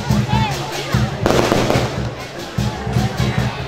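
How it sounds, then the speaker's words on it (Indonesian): Fireworks crackle and pop in repeated bursts at a Cap Go Meh festival night in Kebumen, with a loud flurry in the middle, over a steady rhythmic drumbeat and a murmuring crowd. "acara ditutup dengan pesta kembang api."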